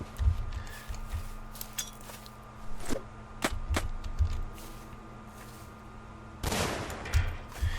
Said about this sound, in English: We'll go ahead and lob a few more grenades in there.